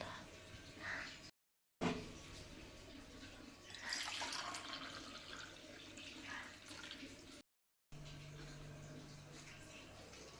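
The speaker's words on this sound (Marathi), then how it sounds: "याला आधी स्वच्छ धुवून घ्यावं लागेल" Soaked mung beans are rinsed in water at a kitchen sink, with splashing and running-water sounds that swell midway, against a steady background hum and faint voices.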